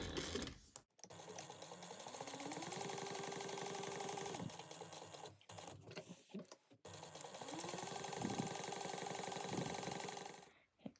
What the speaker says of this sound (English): And you're just going to go around sewing that at 1/8 inch.